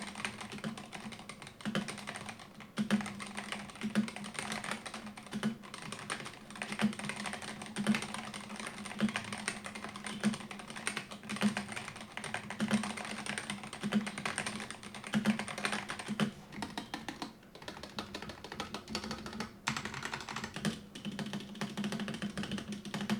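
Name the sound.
typing on a Razer gaming keyboard, sound test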